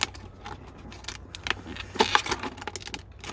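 Scissors snip through a plastic bottle being cut into a succulent planter, a series of sharp, close crackling cuts and clicks in irregular bursts, louder around the middle, with no talking.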